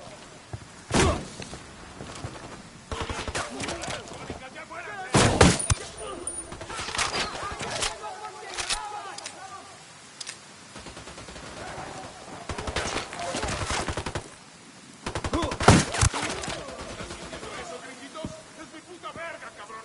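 Gunfire rings out in the Ghost Recon Wildlands video game, with scattered sharp shots and short bursts spread across a tense stretch and low rumbling in the gaps, while voices talk at times.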